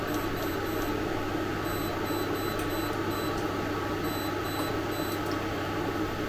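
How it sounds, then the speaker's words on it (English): A kitchen timer being set while Norfolk dumplings simmer in a lidded pot of beef stew gives faint, high, clipped beeps in short clusters over a steady low kitchen hum. "set my timer for 15 minutes"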